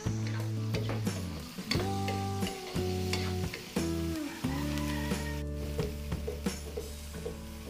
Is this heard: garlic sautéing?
yes